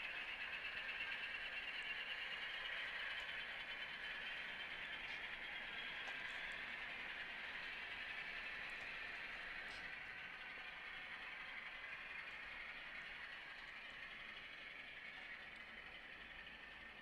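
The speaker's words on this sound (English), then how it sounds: "This train has come down from Boston behind one of the New Haven's iconic I-5 shoreliners." A model train behind a New Haven I-5 Shoreliner locomotive runs on an HO layout, a steady faint mechanical whir and rolling hum that holds evenly and slowly fades, with no talking.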